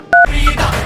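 A telephone being dialed: a single loud two-tone keypad beep, followed by a fainter short tone and low background noise, with no speech.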